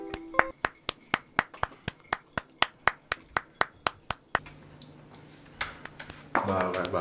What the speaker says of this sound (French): il ne peut s'empêcher de claquer des fesses de manière aléatoire